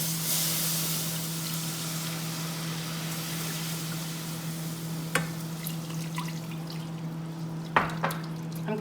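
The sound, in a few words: whisking broth into a butter roux in a pan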